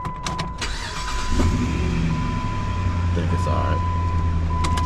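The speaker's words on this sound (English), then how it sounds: "Let's try to crank it up again." A 4.7 liter V8 truck engine cranks and catches, a steady low mechanical drone building under a voice, with a faint whine and some clatter close by.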